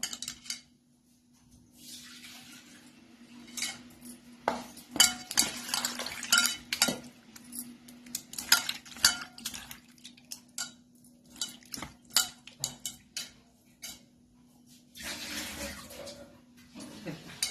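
Potato slices being rinsed by hand in a bowl of water, with irregular splashes, swishes and clinks of the slices against the bowl, loud close bursts coming and going over a steady low hum.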